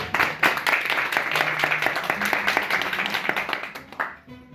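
Audience applause rolls on steadily for several seconds, a dense wash of claps that tapers off at the end.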